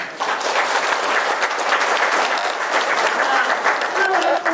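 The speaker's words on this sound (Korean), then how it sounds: "박수 좀 쳐주세요." Dense applause fills a district office hall during a Seoul housing redevelopment briefing as residents clap for a city director, many hands at once, loud and sustained with a slight tail toward the end.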